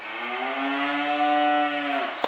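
A single long, low moo from a dairy cow on a farm, close and loud, sustained for about two seconds before cutting off.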